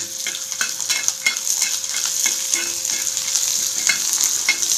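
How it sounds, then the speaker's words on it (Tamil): Raw peanuts frying in hot oil in a pan for peanut chutney, a steady close sizzle with repeated scraping from stirring. "எண்ணெய் கொத்தின்ட்டு வேர்க்கடலை போட்டுக்கிறேன்."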